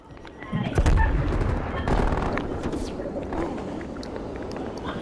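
Rapid gunfire rings out in the video game Call of Duty: Black Ops Cold War, with dense bursts of shots growing loud after a brief start and carrying on under a player's shouted talk.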